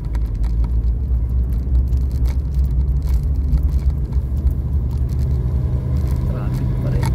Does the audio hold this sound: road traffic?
yes